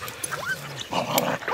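Several dogs at a morning outing make brief yips, whimpers and a bark or two, close and fairly soft, clustered toward the end of the moment.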